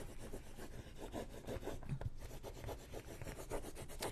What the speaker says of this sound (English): you just want to rub it and get your transfer to stick